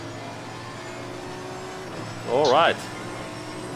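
A V12 race car engine in Assetto Corsa Competizione at Bathurst drones steadily, then revs up loudly in a brief rising wail before settling back, with a short spoken remark over it.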